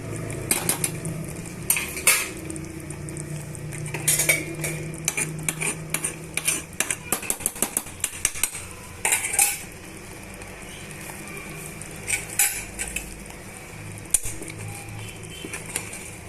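A spoon stirs chicken and spices in a pressure cooker pot, giving irregular metallic clanks and scrapes in quick clusters with quieter pauses between them. A faint low sizzle runs underneath and no one speaks.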